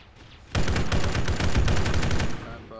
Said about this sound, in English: We keep getting shot and grenaded from the line.